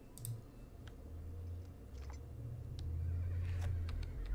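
A horse whinnies and hooves clip-clop in a video game set in a meadow, with the neigh rising over steady low background sound and scattered soft clicks.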